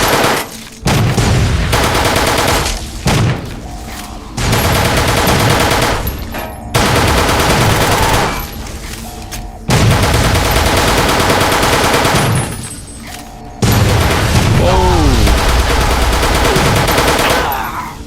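Loud, close gunfire from Fallout New Vegas fills long sustained bursts of rapid automatic shots, broken by short pauses, with the sound dense and heavy throughout and no talking.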